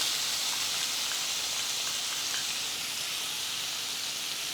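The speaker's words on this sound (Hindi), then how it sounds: "फिर इसमें प्याज डालेंगे जो हमने तैयार किए हैं चॉप करके।" Chopped onions frying in a pan for dhaba-style rajma make a steady, even sizzle with a soft hiss throughout, close and moderately loud, with no voices.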